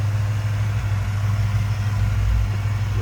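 A 1995 Chevrolet Impala SS with its LT1 V8 idling nearby, a steady low rumble holding even and loud throughout with no talk over it.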